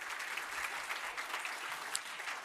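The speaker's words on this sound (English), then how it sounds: "Thank you, with a big applause to the panel." Sustained applause from a conference audience after a panel discussion, steady dense clapping filling the room throughout without pause.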